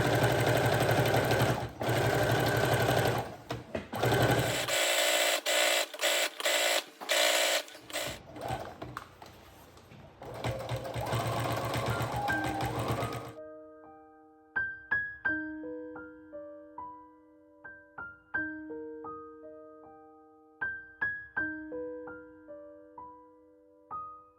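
A domestic sewing machine runs a basic straight stitch at 3.5 length with regular thread on fabric for a princess crown bed canopy, humming loudly in steady bursts with pauses, then giving way to a lighter tonal passage.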